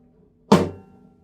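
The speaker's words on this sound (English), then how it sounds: "do a down strike with the index finger and at the same time you tap the body of the guitar" A single sharp percussive flamenco guitar down strike with the index finger combined with a dull tap on the guitar body, decaying quickly into silence.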